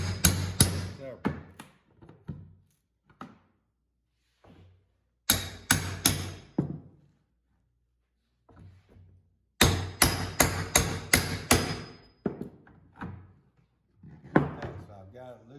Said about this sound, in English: now I'm gonna take my larger flat bar. Take that in, pull out